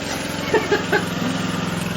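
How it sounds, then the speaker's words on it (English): A lawn mower runs nearby as a steady, droning engine hum with a few soft knocks over it, constant and moderately loud throughout, with no talk. "somebody's going to run a lawnmower as soon as I'm recording"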